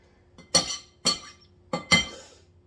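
Four sharp clinks of a metal utensil tapped against a pan or dish to knock off stuck food while making meatloaf, close and fairly loud, spaced about half a second to a second apart.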